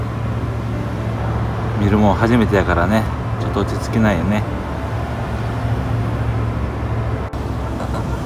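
A car engine runs with a steady low hum, close and constant, while someone talks softly over it.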